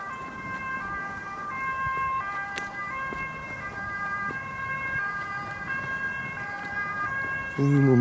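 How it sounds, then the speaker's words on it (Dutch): An ambulance siren wails steadily at mid distance while walking through a park, its rising and falling tones running throughout, with light background street noise. "Net stopte de sirene eventjes."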